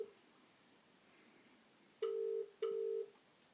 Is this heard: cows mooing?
no